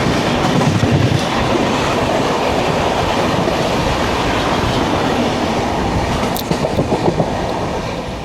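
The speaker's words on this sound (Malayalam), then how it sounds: "ട്രെയിൻ വരികയും ചെയ്തു. 3071 ആണല്ലോ. Humsafar express Patna SMT Bengaluru." A Humsafar Express, train 3071 running Patna to SMT Bengaluru, rolls steadily into a station, its broad rail rumble and clickety-clack sustained and loud throughout, with a brief wheel squeal near the end.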